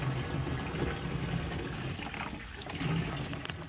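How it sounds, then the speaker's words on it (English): Holy water pours steadily into a container inside a church, a soft continuous rush of liquid that carries on for several seconds with no talking. "going to try and fill up with some holy water"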